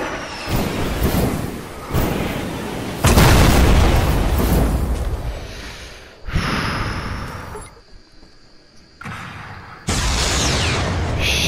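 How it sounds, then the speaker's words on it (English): A guided missile explodes in a shooter video game with jetpacks and rockets, making a series of loud, heavy booms and roaring blasts that rise and fall over several seconds, with short quieter gaps between them. "5, 4, 3, 2, 1, it's gonna explode."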